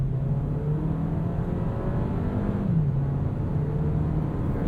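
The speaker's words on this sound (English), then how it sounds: "Let's do a braking test and a 0 to 60 just for fun here." A 2022 Volkswagen Taos 1.5T SEL AWD accelerates hard from a stop, its turbocharged engine droning steadily and rising in pitch, with a brief dip at a gear shift before climbing again, heard from inside the cabin.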